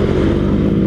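A Suzuki Skywave 125 scooter engine runs steadily close by, a loud, even idle hum with no other sounds over it.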